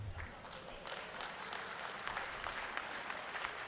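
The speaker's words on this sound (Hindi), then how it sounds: "आपने जो ताली मेरे सम्मान में बजाई" Audience applause for a poet at a Hindi kavi sammelan in Lucknow, a dense wash of many hands clapping that holds steady and fairly loud for the whole stretch, with no voices over it.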